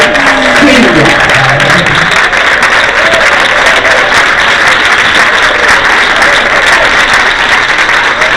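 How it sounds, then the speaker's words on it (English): Loud, sustained applause from a church congregation honouring a pastor, thick continuous clapping with a voice briefly audible over it at the start. "Can we just one more time clap our hands for Pastor.Rev.Errol"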